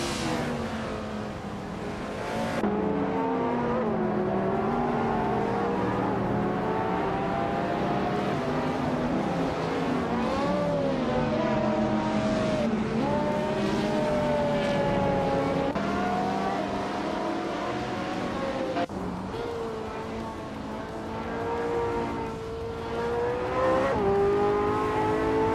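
Race cars in a racing video game roar past one another as they overtake. Several engine whines rise and fall in pitch over a steady, continuous drone, fairly even in loudness throughout.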